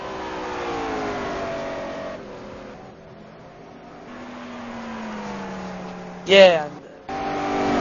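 STC touring race cars lap the Bahrain circuit in a sim racing league, engines droning and shifting pitch at a distance under race commentary, with one brief sharp burst near the end.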